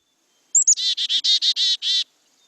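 A backyard bird sings its "hey sweetie" song close and clear: a short rising whistle, then a quick run of about eight buzzy repeated notes before silence.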